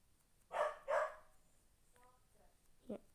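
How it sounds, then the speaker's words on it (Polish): A dog barks twice in quick succession at moderate distance, followed by a faint whine and a short yip, with low background noise during a Brawl Stars gaming session. "Jakbyście słyszeli moje psa"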